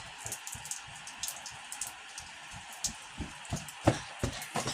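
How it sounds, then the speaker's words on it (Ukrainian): Light evening drizzle patters in scattered soft drops and ticks on nearby surfaces outdoors, faint and irregular over a steady hiss of background noise. "у нас на вечір такий дощик пішов"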